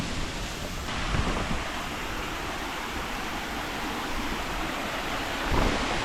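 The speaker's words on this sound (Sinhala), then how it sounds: "දැන් අපි ඉන්නේ ඇල්ල උඩ." A jungle waterfall, heard from above its top, makes a steady broad rushing roar that swells slightly a couple of times, with no talk.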